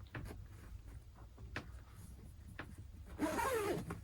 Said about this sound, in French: je vais remettre la fermeture éclair en place